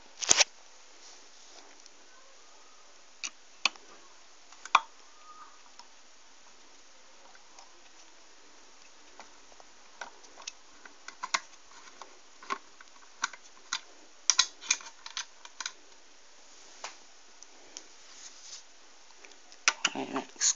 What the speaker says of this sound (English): Now what we need to do is take the screws out.